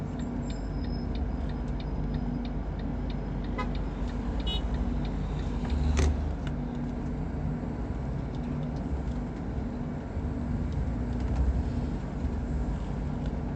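A coach cruises along a road near Kotor, heard from inside as a steady engine and road rumble, with faint repeated ticking and an occasional bump.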